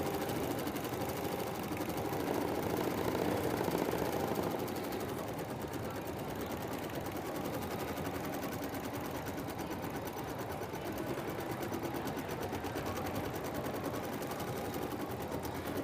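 A sewing machine stitches through heavyweight interfacing with a steady, rapid, close mechanical whir that runs unbroken for the whole stretch, with no voices.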